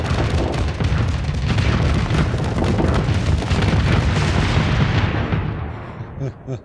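Rapid missile explosions from the space combat game Starsector boom in a dense, loud barrage, overlapping booms rolling continuously before the blasts thin out and fade near the end.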